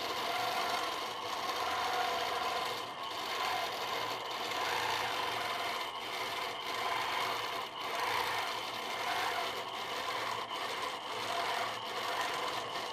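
A sewing machine stitches free-motion quilting in a steady, continuous close-up whir, with slight fluctuations in intensity throughout and no talking.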